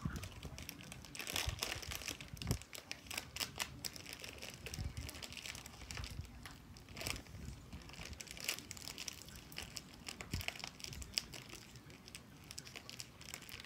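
A plastic bag is crumpled and handled up close, giving a steady stream of crinkling and crackling with sharper rustling bursts throughout, and no voices.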